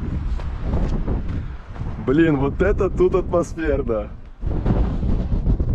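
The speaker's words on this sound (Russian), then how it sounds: "ветер настолько сильный, что он сдует аж." Strong wind buffeting the microphone on a clifftop near a church at Foros, a heavy continuous low rumble with gusts that briefly drop away while someone speaks over it.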